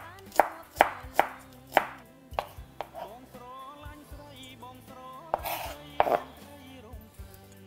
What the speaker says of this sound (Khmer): ខ្ញុំហាន់ចិតការ៉ុតហ្នឹងជាសរសៃទូចទូចហើយចិញ្ច្រាំការ៉ុតហ្នឹង